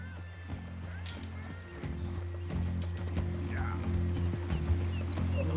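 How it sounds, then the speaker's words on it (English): A horse gallops in Red Dead Redemption 2, its hoofbeats thudding along under a sustained game music drone with a brief whinny, and someone speaks partway through. "And I got a new horse."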